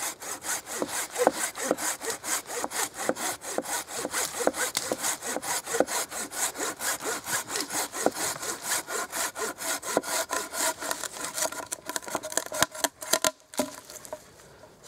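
Hand saw cutting through a tree trunk in the forest, a steady, fast back-and-forth rasp of teeth in wood, close and continuous, with brief pauses near the end.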